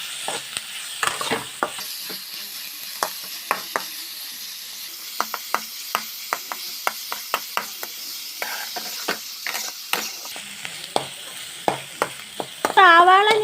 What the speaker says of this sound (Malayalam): അപ്പം സാവാളയോട് ഇട്ട് ഇത് നന്നായിട്ടൊന്ന് വഴറ്റിയെടുക്കാം